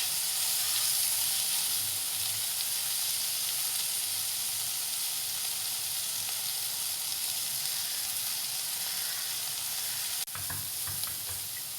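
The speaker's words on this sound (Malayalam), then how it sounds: "ഇതുപോലെ ഇളക്കിയിട്ട് കുറച്ച് മൊരിക്കണം." Green beans stir-frying Kerala style for mezhukkupuratti, sizzling in a pan with a constant loud hiss and occasional stirring scrapes, and a brief clatter near the end.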